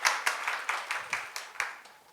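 A small seminar audience claps sparsely in uneven, scattered claps, about nine distinct sharp hits over two seconds, fairly faint and without voices.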